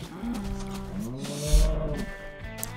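A cow mooing in the video game Minecraft, a single drawn-out, low, groaning moo heard up close and clear, with no talking over it.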